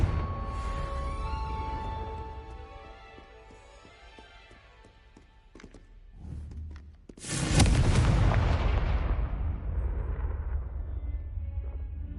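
Confringo fire spell in the game Hogwarts Legacy on PS5, a sudden loud fiery blast that rumbles and crackles and then trails off, after quieter game ambience with faint clicks.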